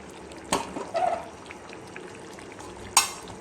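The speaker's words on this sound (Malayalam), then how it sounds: "ഇനി നമുക്കിതിലേക്ക് കറിവേപ്പില കൂടി ചേർത്ത് കൊടുക്കാം എന്നിട്ട് നമുക്കിതൊന്ന് നല്ലതുപോലെ കറക്കി വെച്ച് കൊടുക്കാം" Curry leaves dropped into hot coconut oil and stirred while cooking anchovy aviyal: a soft, steady sizzle broken by a few sharp crackles and spatters, and a quick stirring scrape near the end.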